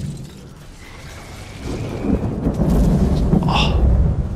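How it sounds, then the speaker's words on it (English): Thunderstorm in LEGO Fortnite with a deep rumble of thunder building and swelling over steady rain, loud and close, with no talking. "the sound design of this thunder is just incredible"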